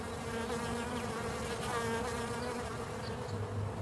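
Flying honeybees fill the air with a steady, continuous buzz, close and even throughout, with no voices over it.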